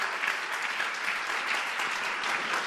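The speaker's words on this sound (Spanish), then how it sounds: "Dale otro fuerte aplauso al Señor." Steady, dense applause from a church congregation fills the room, even and sustained with no talking over it.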